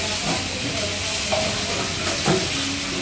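Desi ghee sizzles in a chicken karahi, a steady close hiss of frying with a few faint clinks and stirring sounds, no talking.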